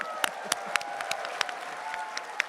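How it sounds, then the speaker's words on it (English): Sparse, scattered clapping from a small live podcast audience at RTX 2022, individual claps spaced out and fairly quiet over a low room hum. "They're applauding you."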